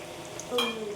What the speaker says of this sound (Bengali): এটা এখন আমি নেড়ে চেড়ে নেব